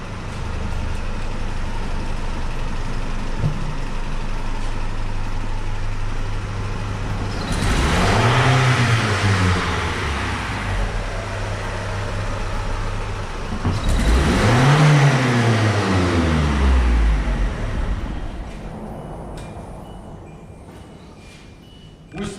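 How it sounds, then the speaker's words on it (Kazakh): A 2005 Kia Optima engine idles and is revved twice during diagnostics, each rev rising and falling in pitch, loud and close, between stretches of steady idle. "Қазір мен газ беріп тексеріп көремін"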